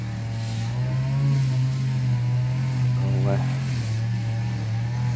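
A small Honda GCV135 lawn mower engine runs at a steady idle with a constant low drone, close and even throughout, while someone speaks briefly over it.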